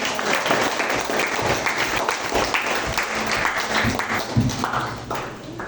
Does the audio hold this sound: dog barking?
no